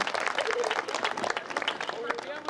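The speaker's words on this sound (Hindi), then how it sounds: "मैं चाहते हैं सम्मान में जोरदार ताली बजना चाहिए।" Audience applauding at a Hindi poetry gathering (kavi sammelan) in Bilaigarh, a lively spread of clapping hands with a voice speaking over it at moments.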